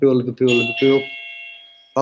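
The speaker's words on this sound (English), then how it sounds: "Someone else will answer the bell." Doorbell ringing: a loud two-tone ding-dong chime rings clearly and then fades out slowly indoors. A brief burst of speech follows at the end.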